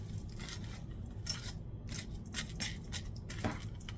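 Vegetables stirred in a pan make a quiet, uneven run of scraping and clinking strokes, with a low background hum underneath and no voices.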